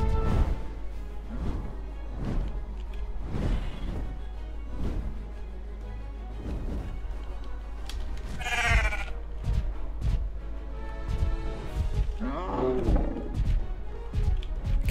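Sheep bleating in a How to Train Your Dragon DLC video game, two distinct wavering bleats a few seconds apart over rhythmic game thumps and background sound.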